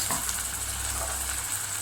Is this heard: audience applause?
no